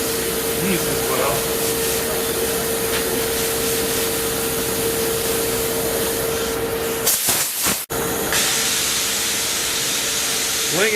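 Wax and grease remover sprays steadily onto the floor pan of a 1967 El Camino during patch repair, a long continuous hiss broken by a brief pause near the end, close and loud.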